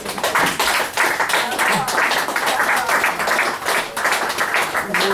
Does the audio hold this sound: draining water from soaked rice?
no